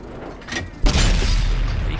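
A 120mm tank gun in World of Tanks on an M103 heavy tank lets off a deep, heavy boom after a short mechanical clank, and the rumble and hiss then fade slowly, loud and close, with no speech.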